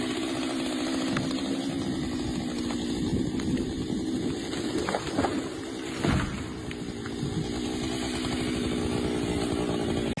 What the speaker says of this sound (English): a worker used a chainsaw to cut into a large, charred tree trunk